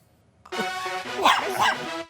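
A few chihuahuas yap and bark close by, a short burst of high, sharp barks after a brief silence, with some whiny yips mixed in.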